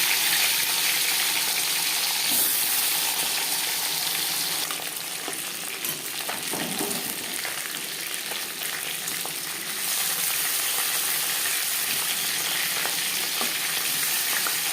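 Marinated tilapia sizzles and spatters in hot refined oil in a pan, a steady dense frying hiss throughout with brief louder bursts of crackle, close and loud with no talk.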